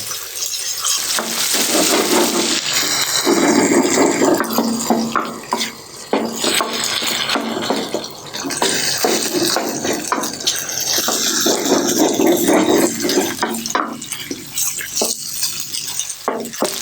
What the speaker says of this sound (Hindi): अभी मैं इसको 5 मिनट तक अच्छे तरीके से फ्राई करूँगा।